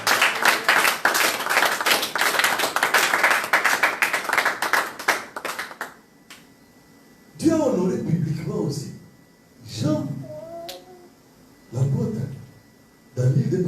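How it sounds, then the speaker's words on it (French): A church congregation bursts into dense, lively clapping for about six seconds, loud and close, then the applause stops and a preacher's voice speaks in short phrases over quiet gaps. "Est-ce qu'on peut acclamer le Seigneur?"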